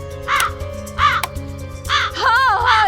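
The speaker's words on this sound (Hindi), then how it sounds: "इंसानों से पीछे छूटा तो एक कौवा पीछे पड़ गया।" A crow caws loudly and close by in Shirdi, India, giving about four or five harsh, rasping calls in uneven bursts, the last ones running together. The calls stand alone with no speech.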